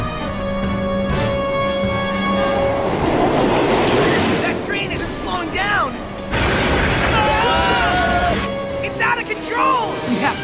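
A cartoon train runs on rails with a steady loud rumble and clatter throughout, overlaid by screeching tones and dramatic music, while characters talk over it.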